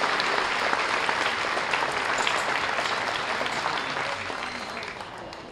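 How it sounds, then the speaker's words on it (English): A crowd at a swine show claps steadily in a dense, even wash of applause that holds for several seconds and then eases off slightly toward the end. "So let's give them a nice round of applause here as we start off today"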